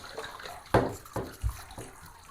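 Water is poured from a cup over a soapy boxer puppy during a bath, giving a few short splashes and trickles, close and moderately soft.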